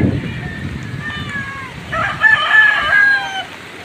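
A rooster crows twice in the middle of a windy, rainy typhoon, its harmonic calls standing out against a constant roar of wind and rain.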